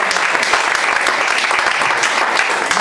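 A church congregation claps in a dense, steady applause that keeps going with no break, fairly loud with faint voices mixed in.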